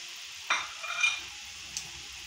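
Grated coconut is stirred into thick jaggery syrup in a pan, giving a soft scrape and sticky swish around the half-second mark, a second longer stir soon after, then a faint tap, all fairly quiet with no voices.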